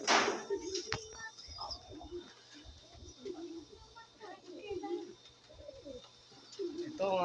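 Racing pigeons outside their loft coo softly in repeated low throaty phrases, with scattered chirps and light rustling nearby, a voice murmuring faintly beneath.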